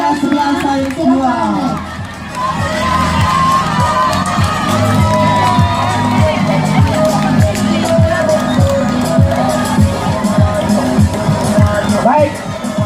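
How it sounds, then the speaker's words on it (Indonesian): A school crowd at a 30th-anniversary celebration at SMA N 1 Sakra claps and cheers loudly for class 11 Science 2, with whoops and children shouting under an announcer's voice throughout. "Tepuk tangan yang meriah untuk kelas 11 Sains 2"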